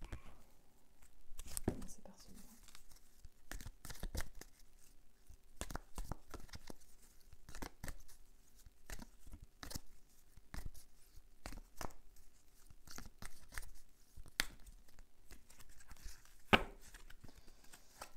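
Oracle cards shuffled by hand, soft irregular riffles and slaps of card stock in short bursts at close range, quiet and with faint room noise between.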